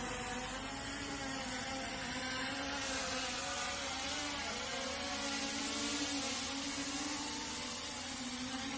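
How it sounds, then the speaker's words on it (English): A Walkera AiBao drone hovers and descends to land, its rotors giving a steady, fairly faint whirring drone that holds unchanged throughout with no voices. "Now it's landing."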